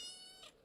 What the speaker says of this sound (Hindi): और इसी के साथ मेरी बिल्ली म्याऊं कर रही है